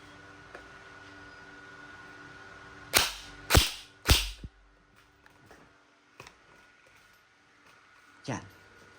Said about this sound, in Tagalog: firing na muna tayo ng semi-auto